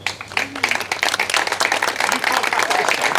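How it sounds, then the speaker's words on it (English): Wedding guests at a Santorini celebration give a quick round of applause, with many hands clapping in a dense, continuous burst that stays close and lively the whole time. "just a quick round of applause for Mr."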